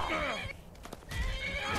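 A demonic horse ridden by a Daedric-armored rider in Skyrim gives a loud, close whinny, with rapid clip-clop hoofbeats running through the short burst.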